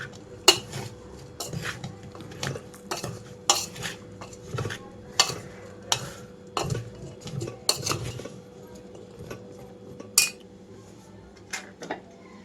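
A spoon clinks and scrapes against a steel bowl while mango pickle pieces are mixed with moong dal flour and groundnut oil, giving sharp, irregular taps spaced over a low steady hum.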